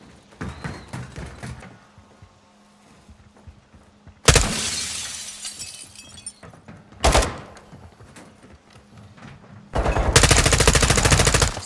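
Sniper rifle fire in a video game sniping mission: a few sharp, loud cracks, each followed by debris and a decaying echo, between quieter stretches of light clatter.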